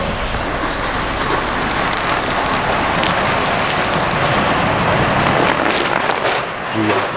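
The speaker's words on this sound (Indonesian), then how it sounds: "teman-teman bisa lihat cuacanya hujan deras banget" Heavy downpour pouring steadily and loudly over a kitchen setting where a large batch of chicken katsu is being cooked, a dense continuous wash of rain with no pauses, close and even throughout.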